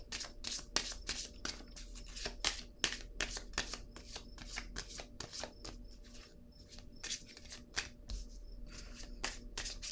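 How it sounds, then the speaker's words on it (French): An oracle card drawn from a deck produces a steady run of soft, rapid card riffles and flicks, quiet and close, with a faint hum underneath and no talk. "je vais piger une petite carte ici, là"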